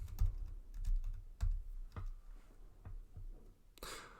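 Keys are tapped on a computer keyboard while a docker ps command is entered, a handful of irregular close clicks with pauses between them, ending in a brief rushing noise.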